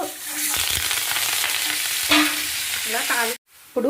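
Tempering spices for a tomato chutney sizzle and crackle steadily in a hot pan, loud and close, with a ladle stirring and scraping now and then, broken by one brief silence near the end.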